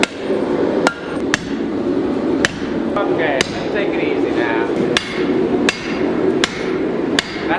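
Heavy rhythmic blows from a Little Giant power hammer pound a steel scythe blade in a steady series, each strike sharp and ringing over a constant mechanical rumble, with a brief spoken remark.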